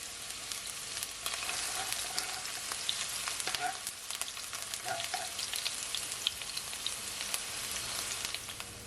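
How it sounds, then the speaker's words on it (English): Onion and garlic sautéing in a hot pan for Jamaican pepper shrimp, a steady bright sizzle with occasional pops and crackles, close and without talk. "you're just gonna leave it just for a couple of seconds to saute"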